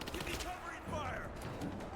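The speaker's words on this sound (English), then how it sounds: "Give me covering fire!" Rapid gunfire bursts from the video game Rise of the Tomb Raider crackle through a busy combat mix, with voices speaking over the shooting throughout.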